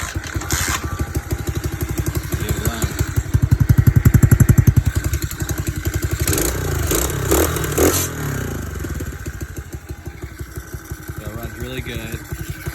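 A Tao Tao 110cc Chinese pit bike engine, freshly swapped in, runs with a steady rapid putter, rising briefly into a louder rev and then settling back, with some clatter and scraping nearby.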